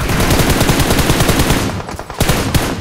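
Rapid automatic gunfire in PUBG Mobile on the Miramar desert map, a loud, dense stream of shots that briefly thins out near the end before resuming.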